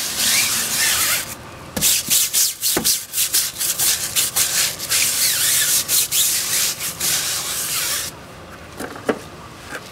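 Adam's wheel brush scrubbing a car wheel, a close, steady rubbing and bristly scraping that runs in continuous bursts with brief pauses, no voices.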